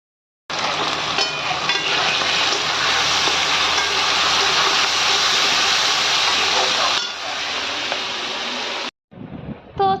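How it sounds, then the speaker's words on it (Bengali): Onions sizzle in hot oil in a kadai, a loud, continuous hissing fry that holds steady for several seconds before cutting off and briefly returning. "আর তারপরে কড়াইয়ের মধ্যে এদিকে পেঁয়াজ দিয়ে আমি ভাজতে শুরু করে দিয়েছি"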